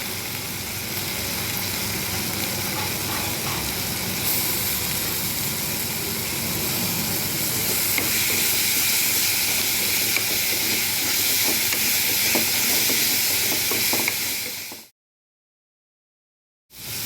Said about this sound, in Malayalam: ഇതിലേക്ക് ഇഞ്ചിയും വെളുത്തുള്ളിയും ചതച്ചതും കൂടി ചേർക്കാം.